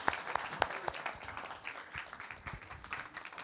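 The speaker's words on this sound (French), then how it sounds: "n'hésitez pas à applaudir" Scattered applause from a small audience at the close of a French design-school conference, a few sharp claps standing out early before the clapping settles into a thin, uneven patter.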